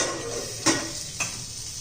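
Bitter gourd sautéing in oil, a steady close sizzle broken by two soft scraping stirs of a spatula against the pan.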